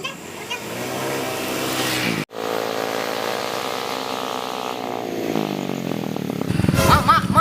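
A motorbike engine runs steadily up close, holding a droning tone with a brief cutout, then revving harder near the end.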